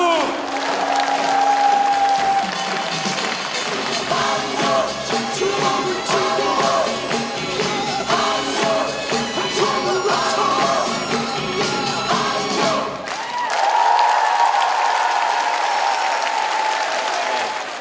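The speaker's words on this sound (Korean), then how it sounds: "박수!" A large audience at a Korean workers' broadcast stage event claps and cheers in a sustained, loud burst of applause with some yells, swelling again toward the end.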